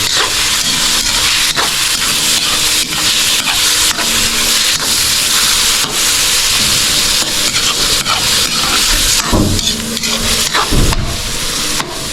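Pork pieces frying in a pan for Bicol Express, browning to golden, with a loud, continuous crackling sizzle and occasional scrapes and clatters of stirring throughout.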